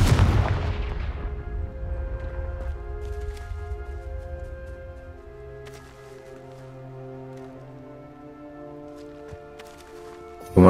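A Confringo blasting spell goes off in Hogwarts Legacy as one loud explosive burst at the start, ringing out into a long fading decay over sustained game music, with another sharp hit at the very end.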